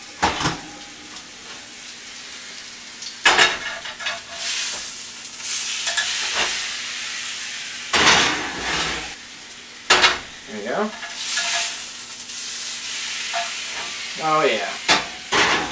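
A steak sizzles in a frying pan with a steady hiss, broken by several sharp scrapes and clatters as it is shifted in the pan, and a voice speaks briefly.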